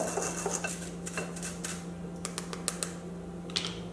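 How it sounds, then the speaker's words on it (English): Cake mixture is pushed through a small sieve into a bowl, with a spoon scraping and tapping in quick irregular clicks over a steady low hum, no voices. "just make it go all through the little sieve into your bowl"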